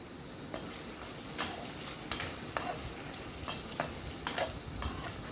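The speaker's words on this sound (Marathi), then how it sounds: "त्याच्यामध्ये मी आलू पण घालत आहे, म्हणून आलू आधी मी तळून घेणार आहे" Potatoes frying in a pan for a Maharashtrian bhaji, a steady low crackle with occasional sharper ticks and scrapes as they are stirred, close and moderately quiet, no talking.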